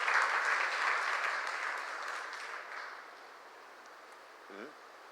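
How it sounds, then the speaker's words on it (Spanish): Church congregation applauding during a Spanish-language service, a dense wash of clapping that starts loud and steadily fades over several seconds, ending with a brief faint low sound near the end. "Dale un aplauso al Señor y glorificas a Dios."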